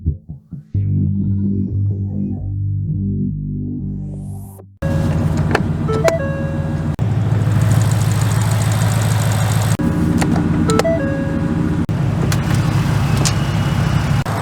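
A Ford Raptor R's supercharged 5.2-liter V8 starts with a whir, then idles loudly and roughly up close, with a brief rev partway through.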